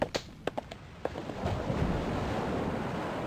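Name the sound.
ocean waves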